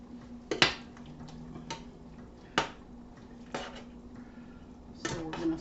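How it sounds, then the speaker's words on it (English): Mushrooms being stirred into a meatball stroganoff mixture: a few sharp metallic clinks of a spoon against a pot, spaced apart over a quiet background hum. "we are going to just put them in our mixture with our meatballs and kind of stir them up there a little bit"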